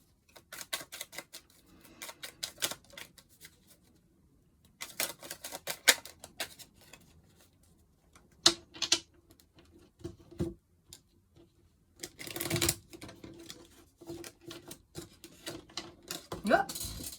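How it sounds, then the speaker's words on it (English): Small tarot cards being shuffled in bursts of quick, light riffling clicks separated by pauses, close and fairly quiet. "It's quite difficult to shuffle these tiny weeny cards"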